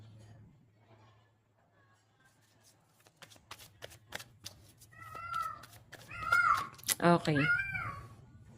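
Cats meow several times in a cluster of rising, harmonic cries near the end, loud and close, mixed with voices and brief card-like shuffling clicks earlier in the room.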